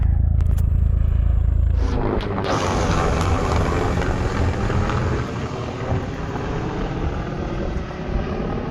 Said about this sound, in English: y'all check out the helicopter.